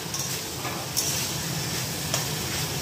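Spices sizzle and scrape in a hot pan as ground salt, turmeric, coriander, cumin and Kashmiri chili powder are stirred and fried, a steady close hiss with soft spatula strokes and a couple of sharper scrapes.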